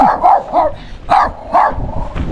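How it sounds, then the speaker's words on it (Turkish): A dog near Lima, Peru, barks several times in quick, uneven bursts, close and loud, with a slightly yelping tone and no talking. "Ulan köpek de beni korkuttu ya."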